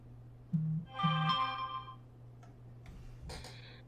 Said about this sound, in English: Oh, I got a notification.